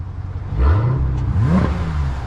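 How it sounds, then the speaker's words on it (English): A 2020 Dodge Challenger SRT Hellcat Redeye gives two sharp throttle blips, the engine note sweeping up quickly each time over a deep idle rumble, loud and close, with no talking. "Throw me a rev."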